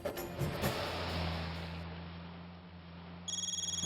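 A phone rings through a small speaker, the repeated electronic tones starting near the end after a short stretch of low hum and background noise.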